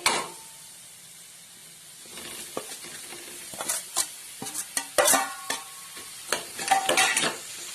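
Potatoes for a dry batata bhaji frying in a pan, sizzling that builds after a quieter start, with sharp spoon scrapes and clanks against the pan at an irregular stirring rhythm.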